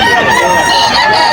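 A WPC Bandit gamefowl rooster crows loud and close in a single harsh, sustained call at a busy pet market.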